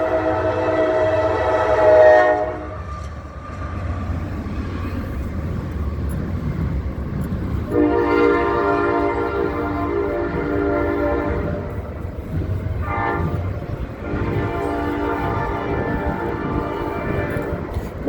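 A passing train sounds its horn in long sustained blasts, a long loud honk, then a pause, then two more blasts in a row over the low rumble of the rolling train, close and loud.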